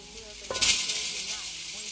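Onions hit a very hot pan on the stove with a loud sizzle that swells briefly, then settles into a steady frying hiss, close and alone.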